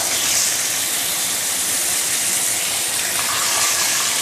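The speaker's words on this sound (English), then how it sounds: "I'm going to use medium high heat to pan fry the fish. Just be careful when you put in, it will splatter" Fish pan-frying over medium-high heat in a hot wok, a steady loud hiss of splattering oil that holds evenly from start to finish with no voices.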